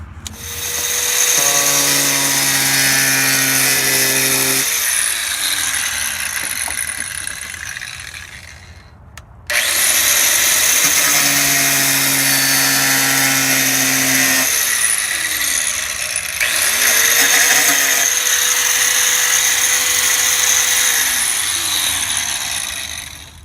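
A power tool cuts through a car's floor panel to open a fuel pump access hole, a loud continuous whining cut in two long runs with a brief break, close up with no talk.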